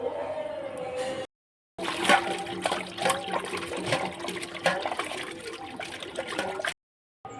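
Tap water gushes and splashes while fish is washed, a steady rushing stream broken by two short silent gaps, close to the listener.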